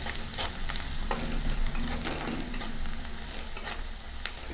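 Red chili powder, turmeric, salt and green masala frying with tomato in a pan for a tomato vegetable dish, a steady close sizzle with scraping stirs and clicks of a spoon against the pan.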